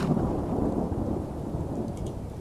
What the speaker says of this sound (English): This rain will stop eventually. Always does.